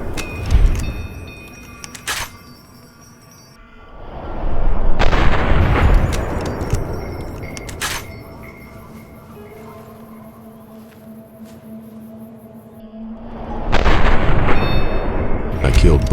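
Gunfire in the game Fallout New Vegas: several loud booming shots and blasts, each followed by rolling echoing tails, separated by quieter stretches of lingering ambience.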